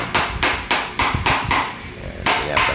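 Six hard metallic hammer blows land on a dented car bumper, spaced about half a second apart with a short gap before the last, each strike ringing briefly before fading.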